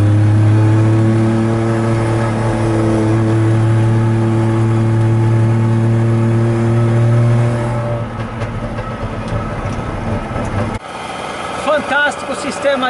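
A DKW Vemaguete two-stroke car pulls away and accelerates, its engine a loud, steady buzzing drone that holds for several seconds before thinning out and changing character near the end.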